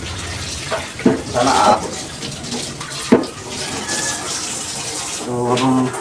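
Water drawn from a tap for chicken tinola soup, splashing and filling in uneven bursts while someone talks over it intermittently.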